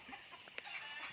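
A fighting rooster clucks in short, soft bursts close by, with quiet outdoor ambience and no speech.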